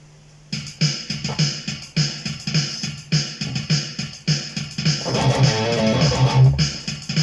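An electric guitar chugs through a choppy, rhythmic thrash metal riff with sharp repeated strums, building into a denser, more sustained passage near the end.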